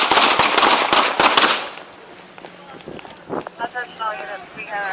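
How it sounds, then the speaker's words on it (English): Gunfire in a police shootout: a rapid burst of sharp, loud cracks in quick succession, followed by shouting voices and wind noise. "Shots fired, shots fired."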